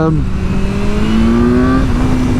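A 2025 BMW S1000R motorcycle engine under way on a wet road, a loud close whine that rises steadily in pitch as the bike accelerates hard.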